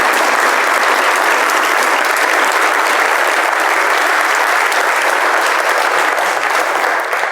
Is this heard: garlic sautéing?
no